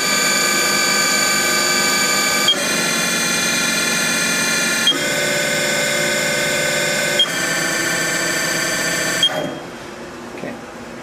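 A Haas TM-1 CNC mill's spindle runs near 3,500 rpm under almost no load, giving a loud steady whine with layered tones. Small clicks mark step changes every couple of seconds before the spindle winds down and falls quiet.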